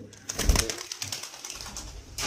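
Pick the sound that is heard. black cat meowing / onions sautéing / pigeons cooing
pigeons cooing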